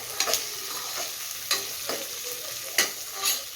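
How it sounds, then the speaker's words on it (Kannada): Coconut being added to frying masala for mutton kheema ball sambar and stirred, sharp periodic spatula scrapes over a steady sizzle, close and clear, no speech. "ಇಷ್ಟೆಲ್ಲ ಫ್ರೈ ಆದಮೇಲೆ ತೆಂಗಿನಕಾಯಿ ಹಾಕ್ಕೊತಾ ಇದ್ದೀನಿ."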